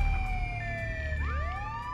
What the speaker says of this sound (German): Oh, die Sirene aus hier, ist ja schrecklich.